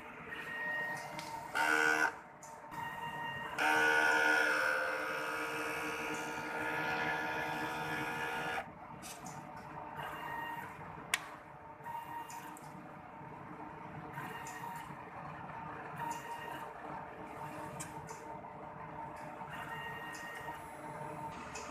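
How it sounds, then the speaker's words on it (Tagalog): An inkjet printer whirs and buzzes through a weak-mode head cleaning cycle, with bursts of louder mechanical grinding, clicks, and pauses between motor runs. "after natin makuha yung printer, so mag-cleaning po ako"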